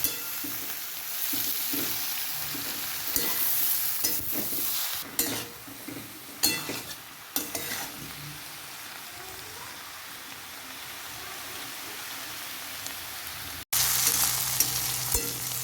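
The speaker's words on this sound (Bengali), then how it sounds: "দেখুন ঢাকাটা এখন খুলে দেবে ভালো করে মেরে নেব" Cabbage ghonto in an uncovered pan sizzles steadily while a spoon scrapes and stirs it in irregular strokes. A brief break comes near the end before the sizzle resumes. Nobody speaks.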